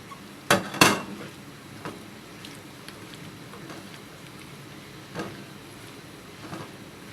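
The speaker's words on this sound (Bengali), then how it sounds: "এবারে দিয়ে দিব কেটে রাখা বেগুনগুলো" Cut eggplant pieces going into a pan of Moa fish curry give two sharp clattering knocks up front, then softer occasional taps and scrapes against a faint background.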